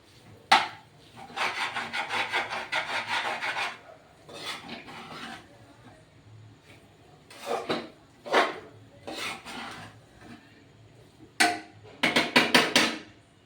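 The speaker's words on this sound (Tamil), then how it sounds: "ஊற்றிட்டு நல்லா கிளறி விடுங்க" Pasta and sauce are stirred in a pan, with a utensil scraping and rubbing in close, intermittent bursts of varying length separated by quiet pauses.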